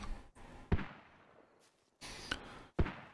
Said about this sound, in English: Danger close, mortar fire mission